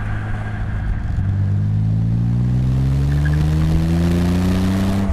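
A 1968 MG MGC's engine pulls up steadily through a gear from inside the car, its loud droning note rising smoothly in pitch over several seconds with constant road noise underneath.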